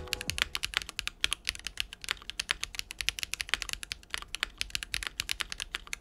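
Continuous rapid typing on a QK75 mechanical keyboard with only case foam installed, many close, sharp key clicks in an uneven rhythm, heard alone without talking.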